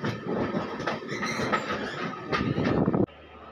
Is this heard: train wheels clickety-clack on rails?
yes